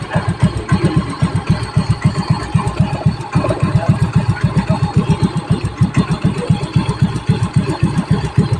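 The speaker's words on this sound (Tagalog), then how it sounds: "smooth na smooth po ang takbo niya. Wala pong kaingay-ingay yung makina" A Honda Mio i 125 motor scooter engine idles steadily close up after a tune-up, with a low, even putter that keeps a regular rhythm throughout.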